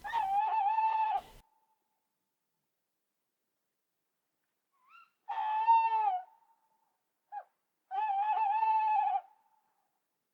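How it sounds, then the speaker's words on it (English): Three drawn-out, wavering owl hoots from distant lakeshore woods, separated by silence, clear but not harsh. "Naught was to be heard but the hooting of distant owls in the woods along the shore."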